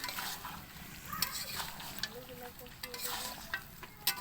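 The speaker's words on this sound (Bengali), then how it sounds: "কষানো হয়ে গেছে মুরগি" Desi chicken being stir-fried (kosha) in a pan gives a low, steady sizzle under scattered scrapes and light clinks of a spoon against metal, fairly quiet and close throughout.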